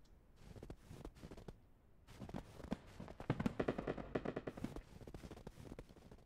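New Year's fireworks in the video game Ranch Simulator, a steady run of crackling pops and booms of varying strength, faint and alone, growing denser toward the middle.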